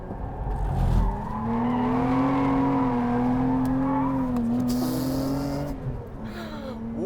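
A Lotus Emira sports car slides with its traction systems switched off, its engine holding a loud, steady sustained note as the tyres squeal, close by and uninterrupted for several seconds.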